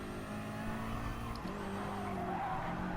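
Race cars skid and squeal their tires in an online racing video game, with a Corvette battling nearby for position; a steady engine drone runs under a continuous tire squeal that shifts pitch midway.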